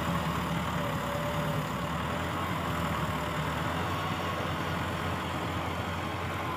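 A diesel Massey tractor engine idles steadily and loudly, a continuous rumbling drone with no voices.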